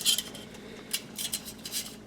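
Metal utensils clink lightly, as fine mesh skimmer sieve spoons in three sizes are handled in a kitchen, giving a few brief, close metallic taps against a quiet background.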